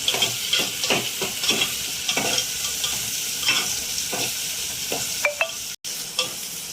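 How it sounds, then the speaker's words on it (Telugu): Onions and green chillies frying in a pan, a steady close sizzle broken by repeated stirring scrapes and a few spoon taps, with a brief cut near the end. "ఉల్లిపాయలు లైట్ బ్రౌన్గా వేగినాయి."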